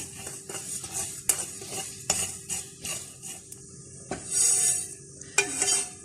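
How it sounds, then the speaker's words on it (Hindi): Sesame seeds roast in a frying pan, with a soft sizzle under repeated scraping and clinking strokes of a spoon stirring them close by. "ये तिल इसमें डाल देंगे और इसको बहुत लाइट सा गोल्डन सा जो है वो इसको फ्राई करके"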